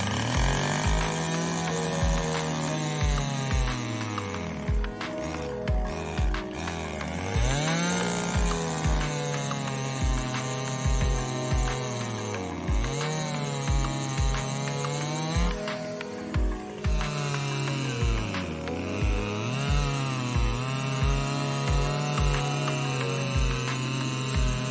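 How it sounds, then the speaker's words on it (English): A chainsaw cuts the ends off a log for mushroom growing, its engine droning loudly and steadily while the pitch repeatedly dips and recovers as the chain bites into the wood, close by. "we're going to get a chainsaw now and we're going to cut the ends off."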